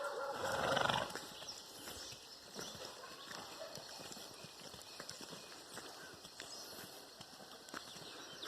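A horse whinnies briefly at the start, then hooves clop and shuffle steadily on the ground, with low outdoor noise throughout.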